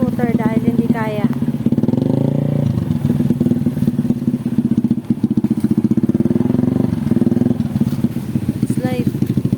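A scooter engine idles with a steady mid-pitched putter throughout, loud and close, with people talking over it at the start and end.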